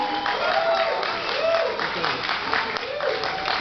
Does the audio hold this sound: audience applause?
yes